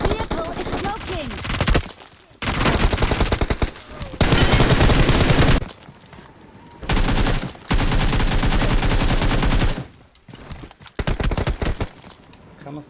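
Bursts of automatic gunfire in the mobile battle-royale game PUBG Mobile, played on the Gameloop emulator, come in several loud volleys separated by short quieter gaps, with faint voices in the background.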